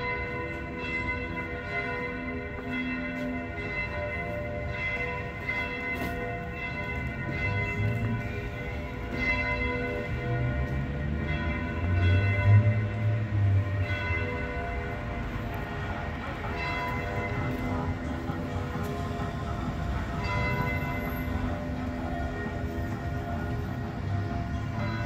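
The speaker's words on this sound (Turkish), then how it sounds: "Her gün duyuyoruz bu çan seslerini." Church bells ring continuously in Trieste, Italy, a steady layered tolling that carries over the city from some distance, with no talk.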